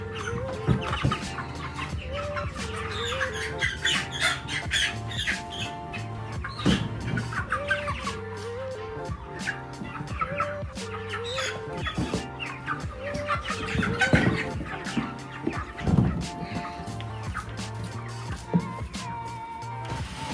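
Meat chickens cluck and call continuously on pasture, a busy overlapping flock heard close by with no talk.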